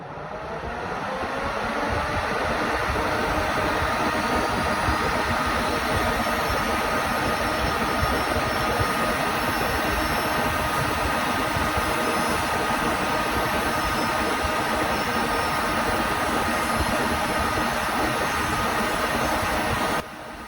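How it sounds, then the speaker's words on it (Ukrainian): Manicure nail drill runs together with an ULKA premium desktop dust extractor, a steady loud broadband whir with a high tonal whine, continuous and unbroken throughout, with no talking. "Я спеціально не буду забирати шум фрезера та витяжки, щоб ви зрозуміли, як працює ця майстра."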